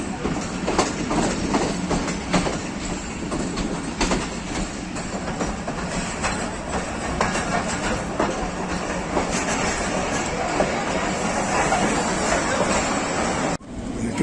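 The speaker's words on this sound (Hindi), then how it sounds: "डाउन मिल्लत एक्सप्रेस शाहीनाबाद जंक्शन पर पहुंच चुकी है" A Millat Express passenger train pulls into a junction in Pakistan, with a steady, loud roar of wheels and carriages and rhythmic clickety-clack running throughout before a brief dip near the end.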